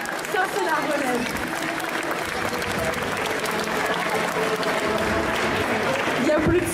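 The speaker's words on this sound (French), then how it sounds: "On les applaudit bien fort" Sustained audience applause at a cosplay contest at the Yggdrasil Indoor 2020 festival, a steady wash of many hands clapping throughout, with a voice faintly audible over it.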